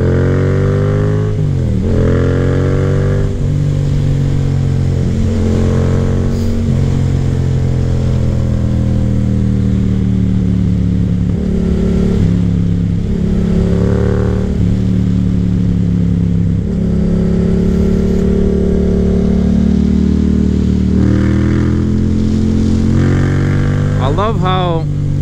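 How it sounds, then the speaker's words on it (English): A Yamaha FZ-07 motorcycle engine revs and accelerates up through the gears, its exhaust tone rising and falling with each throttle input, loud and close, with a rider talking over it at times. "with every little input of the throttle, it has a different exhaust tone"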